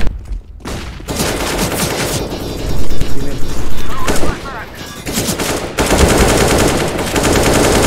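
Rapid automatic gunfire in CS:GO rattles in loud, dense bursts, with brief pauses between volleys and a short quieter gap near the start.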